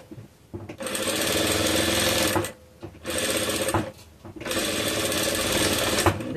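A sewing machine stitches the fabric lining of a small Easter bag, running in three long, loud bursts of steady whirring broken by brief pauses, with no talk.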